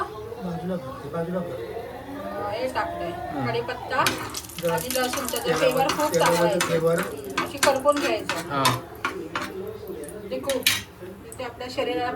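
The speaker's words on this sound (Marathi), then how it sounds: "मॅरिनेटेड बोंबील आता हे रव्यात आणि तांदळाच्या पिठात हे करून तव्यात सोडण्यात" Marinated Bombay duck coated in semolina and rice flour laid onto a hot tawa, with clattering pans, utensil scrapes and light sizzling close by while people talk throughout.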